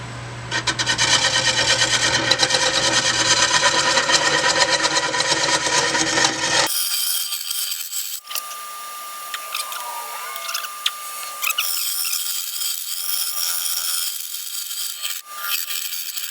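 Cutting into the inside of a cherry wood vase on a lathe without a hollowing system, loud scraping and rasping of the tool against spinning wood, then a high whining spin after an abrupt change partway through.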